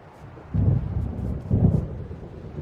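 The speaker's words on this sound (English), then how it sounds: "It seems there's a storm coming." Thunder from an approaching storm in Alan Wake Remastered, two deep rolling rumbles about a second apart, loud and low, swelling and fading with no speech.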